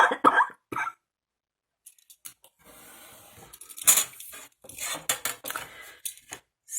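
A few sharp coughs at the start, then quiet clattering and scraping of objects on a table.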